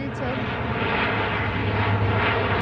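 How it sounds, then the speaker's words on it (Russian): An airplane flies overhead with a steady, loud, low engine roar filling the whole short stretch. "Вон самолет пролетел."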